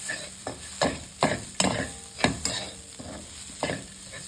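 Coarsely crushed roasted peanuts are sautéed in a pan, a spatula scraping and stirring in sharp, evenly spaced strokes over a low frying hiss, close and clear with no talk.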